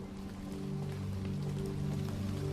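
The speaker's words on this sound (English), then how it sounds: "the sound of the rain makes it almost impossible to stay awake for long" Rain falls steadily outside a train carriage, a dense, even patter with a low rumble beneath it, continuous and fairly close with no voices.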